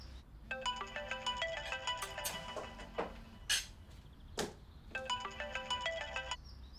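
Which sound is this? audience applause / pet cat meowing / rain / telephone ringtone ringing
telephone ringtone ringing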